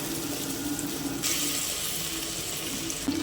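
Fish pieces sizzling in hot oil over a low flame, a steady close crackling hiss that grows denser as another piece goes in, with no talking.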